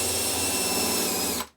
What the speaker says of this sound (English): all we have to do is to drill this hole